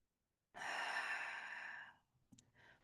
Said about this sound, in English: Let's do one last breath where we're going to breathe in courage and breathe out